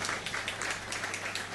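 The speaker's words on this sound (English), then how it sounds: "round of applause there" An audience applauding at a talk, a brief burst of dense clapping at moderate volume.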